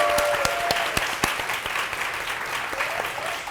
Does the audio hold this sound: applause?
yes